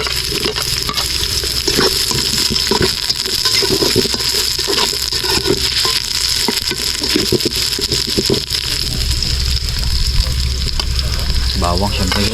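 Onion fries in a cooking pan with a continuous close sizzle and crackle, marked by repeated stirring clinks and scrapes throughout.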